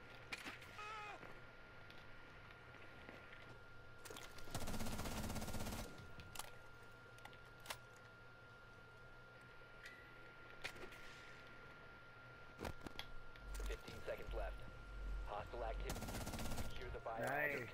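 Rapid bursts of gunfire from a Rainbow Six Siege match as a player pre-fires, with loud volleys around four to six seconds and again near the end, over steady game ambience and occasional voices.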